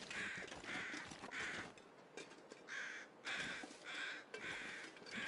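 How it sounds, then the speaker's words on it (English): Crows caw in The Long Dark, a series of about seven harsh, rhythmic calls spaced evenly and heard at moderate distance over a faint outdoor background. "If you start hearing crows, there's probably something dead around."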